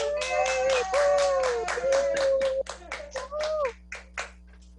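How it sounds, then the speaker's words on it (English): Several people clap for Parkview Patriots students in what sounds like an online school recognition call, scattered hand claps with a voice speaking over them and a steady background hum. "It's time to give a big shout out and round of applause to our Parkview Patriots."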